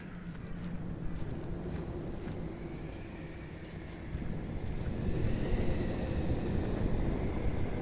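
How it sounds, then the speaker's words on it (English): Wind blows steadily in a video game, a continuous broad whooshing rush that swells slightly louder toward the end, with faint ticks and creaks over it. "That's the wind."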